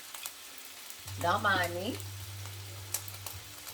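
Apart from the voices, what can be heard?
food frying in a Cuisinart non-stick skillet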